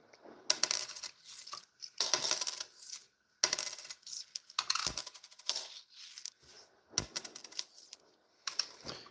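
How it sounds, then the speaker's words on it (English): Copper and zinc pennies are sorted by hand, dropping in quick clinking bursts onto a pile, several close metallic rattling batches separated by brief pauses. "we're just sorting the copper pennies versus the zinc ones"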